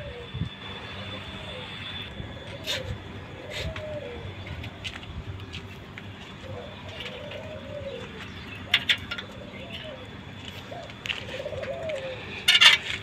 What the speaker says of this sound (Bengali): এই হচ্ছে ঘুঘু পাখি।